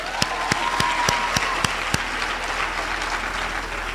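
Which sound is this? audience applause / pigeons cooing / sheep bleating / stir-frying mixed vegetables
audience applause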